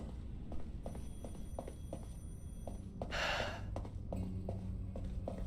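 A phone ringing in the video game Beholder 3, a repeated faint electronic ring pulse at an even pace, with a brief breathy gasp or sigh partway through and no talking.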